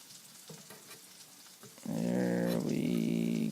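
Butter and garlic hit a hot pan with a sudden loud sizzle after a few quiet kitchen clatters, the frying hiss holding steady close by before cutting off.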